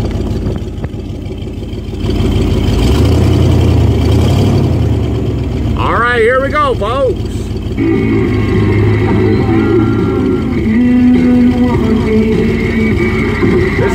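Ford E150 van with its engine cover removed, with loud, steady engine drone filling the cab, rising as it pulls away, while someone talks briefly over it and a radio plays faintly.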